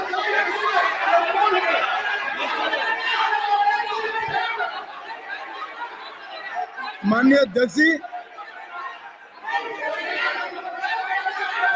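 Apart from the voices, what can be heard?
uproar of members shouting in parliament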